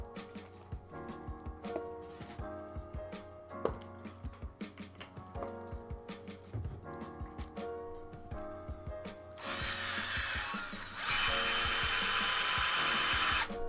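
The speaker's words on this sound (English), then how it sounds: "Like I said, if the drill is loud, please let me know." A power drill whirs in repeated short bursts with clicks and knocks between, then runs continuously louder and brighter near the end.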